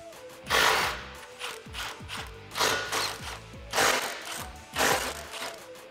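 A socket ratchet works loose the exhaust pipe nuts on a 2018-2020 Mustang GT axle-back, giving repeated bursts of clicking pawl strokes in close, loud, rhythmic pulses with no talk.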